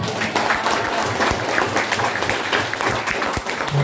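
Audience applause after a speech at a public talk in Minangkabau country, steady dense clapping running the whole length at moderate loudness with a faint voice now and then.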